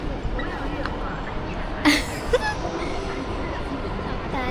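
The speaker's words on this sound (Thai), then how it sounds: "รถไฟมาแล้วทุกคน" A train rumbles in with a brief sharp squeal and clatter, amid background chatter at a station in Qingdao, China, in autumn.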